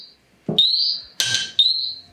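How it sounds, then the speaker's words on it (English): Portable BELLMINI gas detector sounding its alarm right after calibration: two sustained high electronic beeps, each lasting about half a second, with a brief broadband burst between them, close and loud. "the portable will go into alarm"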